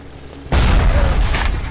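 A sudden loud missile launch and booming explosion in Bioshock, hitting after a brief quiet moment and rumbling on with crackling debris.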